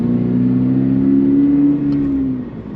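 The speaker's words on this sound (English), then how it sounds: "that little acceleration, I heard a little bit of rattle" A 2022+ Toyota GR86 / Subaru BRZ sports car engine revs close by, its steady hum swelling during a brief acceleration with a slight rattle before easing off.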